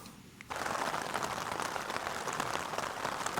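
Steady rain falls on a campsite in Glen Affric, starting abruptly after a brief quiet moment and then holding as a dense, even patter of drops close by.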